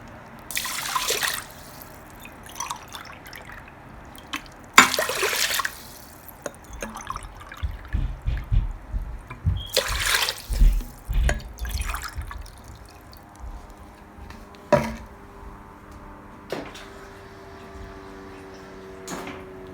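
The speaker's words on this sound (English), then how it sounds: "I'm going to add exactly 4 cups of water." Water splashes and trickles into an Instant Pot of Sona Masoori rice in uneven bursts, with drips and a few sharp clinks between pours.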